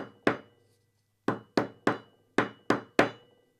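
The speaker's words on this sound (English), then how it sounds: "I'm going to use this side of the hammer because it's rubber. So we're going to just do some light taps here" Seven light taps from the rubber side of a hammer on suppressor parts: sharp, close knocks with quick decays, a single tap, a pause, then six more in an uneven rhythm.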